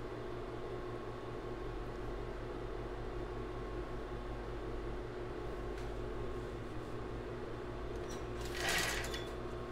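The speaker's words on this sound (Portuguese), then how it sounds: "Então agora eu vou costurar aqui com o elástico de base." A sewing machine runs steadily nearby, stitching base elastic onto a child's bra with a continuous low mechanical hum and a brief louder clatter near the end.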